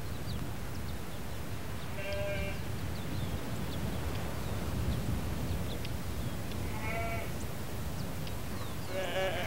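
Sheep on open ranch land in the Andes bleat a few times, three separate wavering calls spread across steady wind-like background noise, moderately distant.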